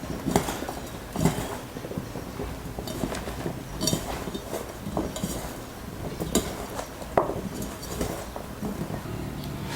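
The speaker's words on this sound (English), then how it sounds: "And use a clean hand to mix well." Eggplant is worked by hand with salt and vinegar in a bowl: soft, wet squelching and rubbing in an irregular rhythm, with occasional light clinks of the bowl. The sound is close and steady, and nobody speaks.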